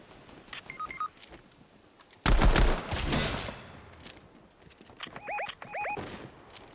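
Pistol gunfire in a video game: a loud burst of rapid shots in the middle, with electronic beeping tones before and after and a few scattered quieter sounds.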